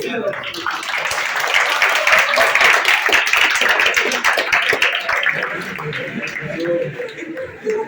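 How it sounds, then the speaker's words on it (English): A classroom of students claps for a classmate, a dense burst of many hands that swells and then thins out over several seconds, with talking mixed in. "Everybody clap for you."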